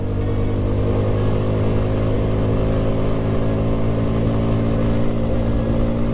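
An Italika Vort-X 250 motorcycle engine holds a steady, loud high-rpm drone around 7000 revolutions, a constant buzzing tone with slight unevenness where it jerks, heard up close without talk.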